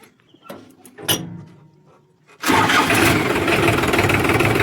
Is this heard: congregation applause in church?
no